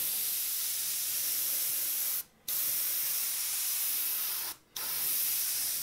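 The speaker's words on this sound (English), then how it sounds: "And notice I'm pointing the airbrush away from our face. So any overspray is going to be heading that way," An airbrush sprays paint in a steady, bright hiss, broken by two short pauses where the trigger is released, heard close up and alone.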